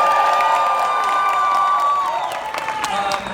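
An audience at the Puppet Up show at Knott's Scary Farm claps, cheers and whoops to vote for an improv title, with loud shrill voices at first, then the noise thins and scattered claps and shouts trail off.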